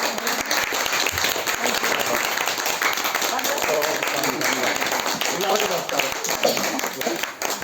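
A room full of people claps steadily for several seconds, a dense, even burst of applause with a few voices underneath.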